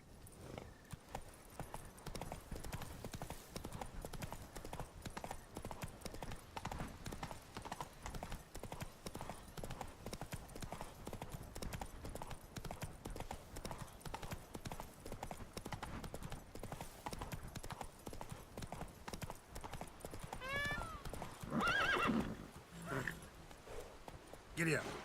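Roach, a horse in The Witcher 3, gallops with steady, rapid clip-clop hoofbeats running continuously and close by, a brief whinny rising near the end.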